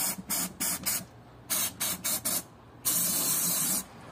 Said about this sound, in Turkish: Sonra yağlayıcı spreyimizle